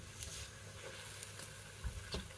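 Radish pieces fry in olive or cooking oil in a pan to char, giving a steady low sizzle with soft crackles and a couple of louder pops near the end.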